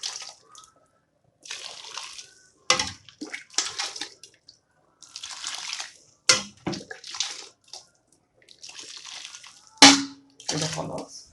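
Tomato juice and broth poured into a pot of pasta with sauce, heard as intermittent splashing and liquid pours in short bursts with brief gaps, fairly close.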